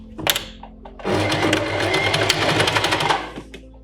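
A sewing machine stitches a single row along a seam, running steadily at close range for about two seconds after a brief start, then stopping.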